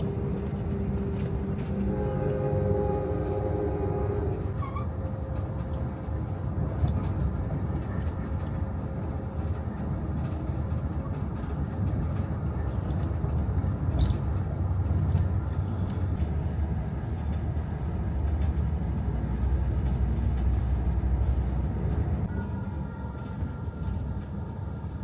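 The Amtrak Texas Eagle at the Pontiac, Illinois station gives a continuous low rolling rumble, with thin tonal squeals early on and again near the end, steady and moderately loud throughout.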